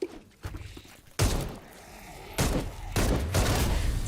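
Gunfire from the zombie video game Dead Island 2: several loud, sharp bursts of shots at irregular intervals, separated by short quieter gaps, with no talking.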